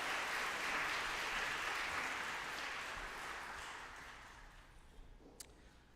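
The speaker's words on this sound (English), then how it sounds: "If we could give her another round of applause" A graduation audience at an eighth grade ceremony applauds in a steady, dense wash of clapping that slowly thins and fades toward the end, leaving a few scattered claps.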